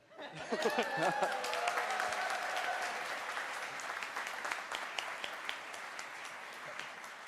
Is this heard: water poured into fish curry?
no